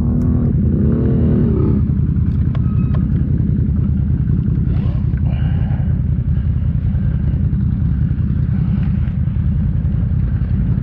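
A stuck vehicle's engine roars steadily and loudly as more gas is given, holding a dense, continuous rumble through the whole stretch, with some brief higher whines and clatter riding on top and no talking.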